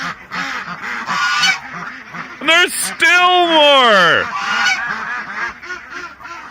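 A goose and a gander honk loudly among ducks on a farm, a few close, harsh calls bursting out over a voice talking nearby.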